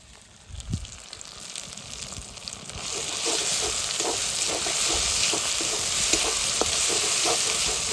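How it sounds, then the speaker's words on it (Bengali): Green chili, dry chili and ground pepper paste fry in hot oil in a pan, a steady close sizzle that swells louder midway, with faint scraping stirs and soft pops and no talk. "এবার কাঁচা লঙ্কা, শুকনো লঙ্কা আর গোলমরিচ বাটা দিয়ে দেবো।"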